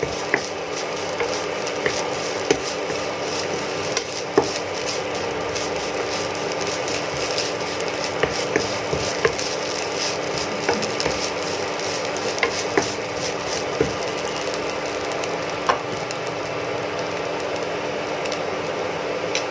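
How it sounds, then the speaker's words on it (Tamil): Grated coconut roasting in ghee makes a steady low sizzle and rustle, with frequent light clicks and scrapes from continuous stirring in the pan. "தேங்காயை நெய்யில் சேர்த்து நல்லா வறுத்துக்கலாம்"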